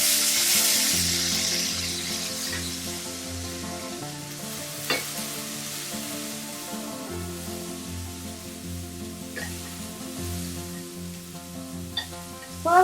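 Sliced onion and tomato sauté in hot oil in a pan for an omelette. A steady, soft sizzle runs throughout with occasional stirring scrapes, under background music and with no speech.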